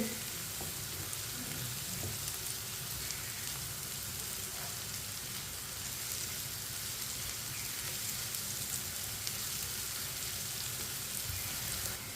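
Tinda and onions cooking in a pan while stirred with a spoon, a faint, continuous rain-like sizzle with occasional soft spoon movements, no talking.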